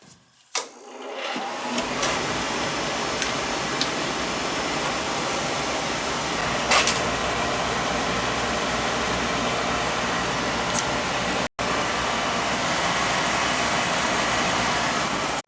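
An oil boiler's Tjernlund power venter motor runs with a steady, loud, broadband whir that starts after a click and continues evenly, briefly cutting out once before resuming.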